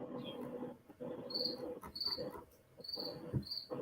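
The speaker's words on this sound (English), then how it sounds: "You got a cricket in your garage, Dave?" A cricket chirps inside a garage in short, high, evenly repeated bursts over a low steady background hum, fairly faint and close.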